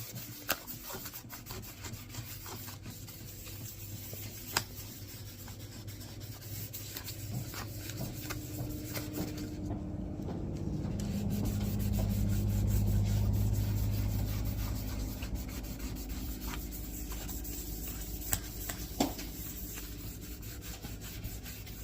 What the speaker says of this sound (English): This light little bit of wet sanding actually did the trick and got all the ugly spots off of it